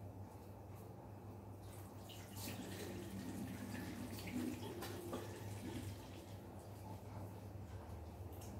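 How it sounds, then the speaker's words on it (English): Water runs from a tap at a bathroom sink during face washing, a soft continuous gush that swells slightly midway as hands splash, heard close but quiet with no speech. "I have to wash my face again. So let's wash it."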